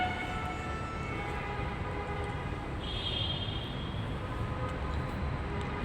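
A metro train at a station at night gives a steady low rumble and hum from start to end, and a brief high whine rises partway through.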